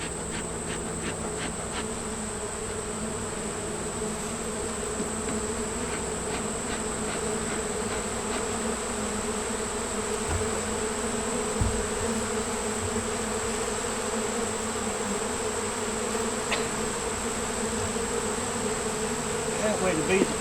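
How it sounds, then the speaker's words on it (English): A steady, dense hum of many honey bees buzzing around a hive, constant and close, with a faint mechanical drone underneath. "These other bees over here will go back to this hive."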